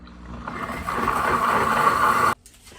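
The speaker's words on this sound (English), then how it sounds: "I have my deluxe cooking blender making the enchilada sauce" A deluxe cooking blender on its sauce setting blends enchilada sauce with a loud, steady whirring roar that cuts off abruptly near the end. Nobody talks.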